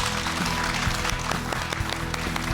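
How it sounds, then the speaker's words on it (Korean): A studio audience on a Korean morning talk show applauds to welcome a guest, dense sustained clapping from many hands, loud and close, filling the whole stretch without a break. "큰 박수로 맞아주시기 바랍니다"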